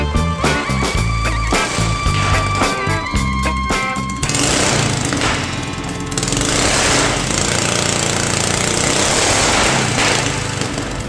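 A $200 mini chopper motorbike's small engine runs loud and close, a rough buzzing drone that sputters unevenly at first, then settles into a steady, continuous high-revving roar.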